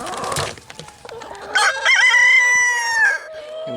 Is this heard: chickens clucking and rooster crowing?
yes